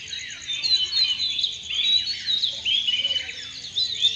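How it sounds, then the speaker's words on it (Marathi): Birds chirping at dawn in a village, a lively chorus of high, rapid tweets and trills at moderate volume, continuous and fluttering over a quiet background. "पक्षी गोड स्वप्नातून उठू लागले"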